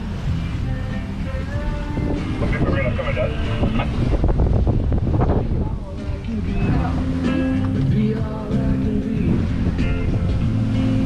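Heavy, steady wind of about 12-13 knots buffeting the microphone on a boat in the Bahamas, a continuous low rumble that fills the clip with scattered speech-like sounds buried beneath it.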